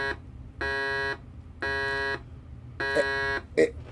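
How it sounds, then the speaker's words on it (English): A Gobots Command Center toy sounds its alarm buzzer in four evenly spaced electronic beeps, each roughly half a second long, heard close up with brief handling noise near the end. "Yeah, it's just an alarm buzzer sound. It just beeps,"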